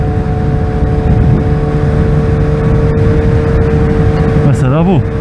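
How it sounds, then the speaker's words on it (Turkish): A late-1990s BMW 520 car passes on a highway, heard from a motorcycle as a loud, steady rush of wind and engine drone with a brief rising and falling whoosh near the end. "Mesela bu BMW 520."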